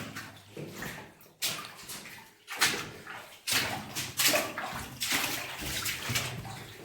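Water trickles and splashes inside an underground gold mine tunnel, a faint, uneven wet sound with intermittent louder gushes over several seconds.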